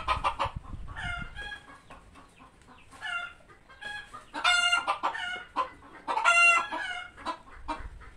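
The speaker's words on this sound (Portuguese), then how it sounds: "Olha só esse galo, olha só esse galo." Chickens clucking and a rooster crowing at dawn on a small farm, in repeated bursts, fairly close, with louder calls near the middle and end.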